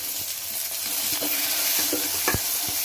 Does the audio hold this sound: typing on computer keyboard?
no